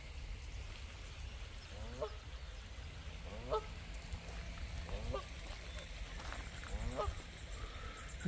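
Canada geese honk at a pond, about five widely spaced calls over quiet outdoor background, moderately distant and faint.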